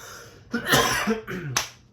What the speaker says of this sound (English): I have a really bad cough today.